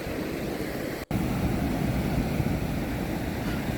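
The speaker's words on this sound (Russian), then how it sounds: "шумом прибоя, просто расслабляться" Sea surf rolling onto the beach at Hikkaduwa, Sri Lanka: a steady broadband wash of waves with wind, close and continuous, broken only by a brief dropout near the start.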